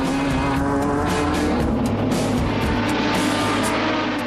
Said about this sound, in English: This Matra Jet also has the feel of a race car.